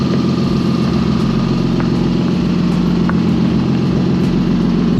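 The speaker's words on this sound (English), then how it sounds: "So I'm driving the car right now with the new coilovers in it." Lexus GS300 engine running steadily inside the car while driving on newly fitted coilovers, a continuous low droning hum with no speech.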